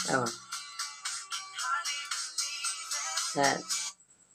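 Messenger chat notification tone on an Android phone, a rapid series of bright repeating chime pulses for about four seconds, loud and close, with no talk.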